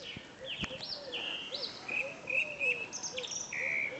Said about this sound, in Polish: Słychać jak pięknie ptaszki na nim śpiewają